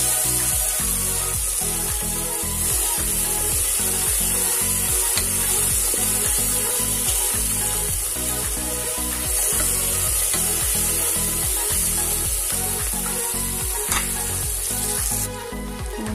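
Tomatoes sauté in a pan for a Kerala-style beef and koorkka roast, giving a loud, steady sizzle throughout with rhythmic scraping and stirring sounds mixed in.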